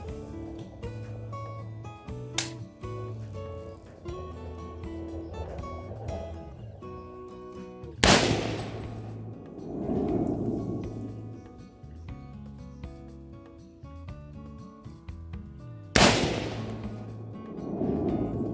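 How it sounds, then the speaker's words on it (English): Military rifle fired outdoors, three sharp, loud shots spaced several seconds apart, each followed by a rolling echo, over quieter background sound. "Coming out here shooting this rifle"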